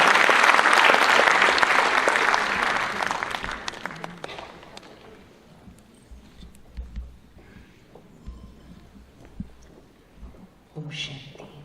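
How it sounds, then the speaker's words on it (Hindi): An audience welcomes a spiritual speaker at a Mumbai zone gathering with a loud burst of applause that fades out over about four seconds, leaving quiet room noise with faint voices and small bumps. "तो आइए हम सब स्वागत करते हैं तालियों की गड़गड़ाहट से"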